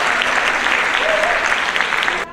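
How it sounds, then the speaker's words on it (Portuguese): A large audience applauds at an opening panel of a creative-economy conference, dense sustained clapping filling the room with a faint shout or two, then cutting off abruptly at the end. "uma salva de palmas"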